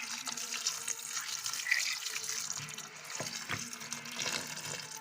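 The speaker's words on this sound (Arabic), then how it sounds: "نسيبها شوية في المية كده ونفتح عليها مية لحد ما النشا بتاعها ده كله يشال" Tap water runs steadily over potatoes in a sink, rinsing away their starch; a continuous close hiss of splashing water with no talking.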